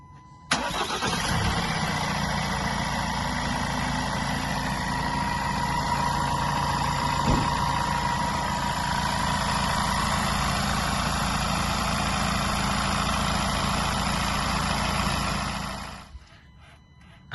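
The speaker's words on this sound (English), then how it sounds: "As you can see, it started up running nicely." A Ford Transit 2.0 EcoBlue diesel engine, just after a timing belt replacement, cranks briefly and catches. It then settles into a steady, even idle that runs loud and constant for about fifteen seconds before cutting off.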